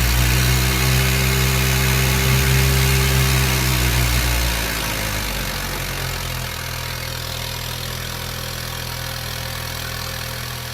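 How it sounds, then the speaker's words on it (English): An air motor agitator mixing ArmorThane coating material runs with a loud, steady mechanical hum, then winds down partway through to a lower, softer drone as it slows. "Jeff, you're shutting off the air motor here as it's mixed for 52 minutes."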